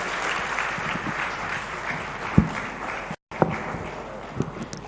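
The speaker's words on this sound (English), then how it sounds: "Big round of applause, ladies and gentlemen." Audience at a talk applauding steadily with a dense wash of clapping. The clapping breaks off in a brief gap of silence, then picks up again with a few sharper claps.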